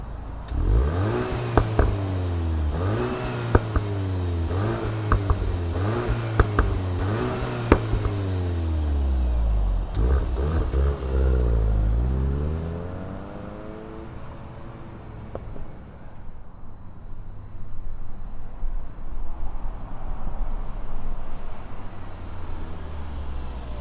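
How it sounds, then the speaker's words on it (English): A 2024 Volkswagen GTI 380 Autobahn hot hatch with a manual gearbox fires up and revs hard several times, its engine note climbing and falling in loud, close bursts before settling to a steady idle. "let's fire up this hot hatch and hear what it sounds like"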